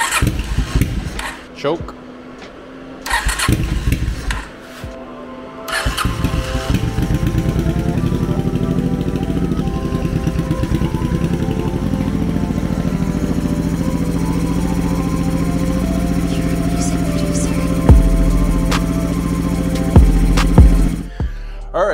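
A 1987 Honda Shadow motorcycle with freshly adjusted carburetors cranks and catches, then runs in a steady, rumbling idle for a long stretch; a few spoken words come early and near the end over the engine.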